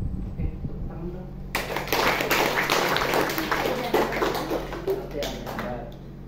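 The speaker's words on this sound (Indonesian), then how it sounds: "Oke, tepuk tangan dong." A classroom audience breaks into loud, dense clapping after a moment of quiet, the applause swelling and then gradually thinning out, close by in a room.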